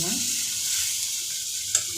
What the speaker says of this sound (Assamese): বগা সৰিয়হটো ভাজি ল'ব লাগিব অলপ সময়